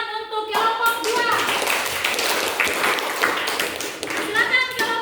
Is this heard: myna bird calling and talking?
no